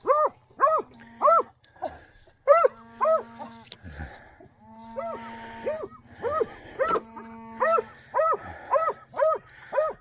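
A farm dog barks repeatedly and loudly at close range, in quick bursts of two or three woofs separated by short pauses, with a low engine-like hum underneath.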